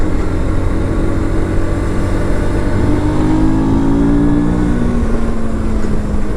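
Morbidelli T125X motorcycle engine accelerating while riding, a steady loud drone whose pitch climbs smoothly as the throttle is wound on, with constant rushing wind underneath.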